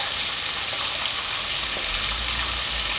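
Salt-and-pepper prawns coated in cornstarch fry in hot oil, a loud, even, continuous crackling sizzle with no talk.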